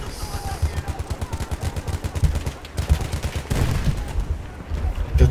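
Gunfire in a video game: rapid repeated shots in dense bursts over about five seconds, loud and close, with a few heavier single shots mixed in.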